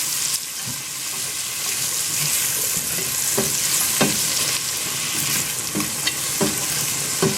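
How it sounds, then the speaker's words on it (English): Chopped onions sizzle in butter in a soup pot, a bright steady frying hiss broken by occasional scrapes and knocks of a spoon stirring, with no talking. "Give them a quick stir."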